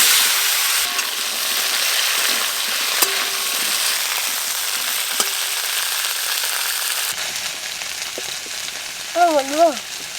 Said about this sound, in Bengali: মাছ ভাজার তেলে আমি আলু আর ফুলকপিগুলো ভেজে নেব।